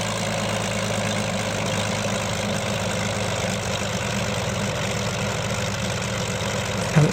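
A P-40B Tomahawk radial engine idling at around 800 to 1000 RPM in Microsoft Flight Simulator 2020, a steady low droning rumble held evenly throughout with no talking.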